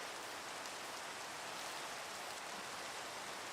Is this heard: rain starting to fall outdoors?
yes